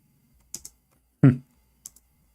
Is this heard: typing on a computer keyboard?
yes